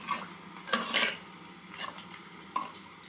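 A spiced mixture of salt, masala and turmeric stirred in a pot with a spoon, giving a few brief scraping clinks separated by quiet gaps, fairly soft and close.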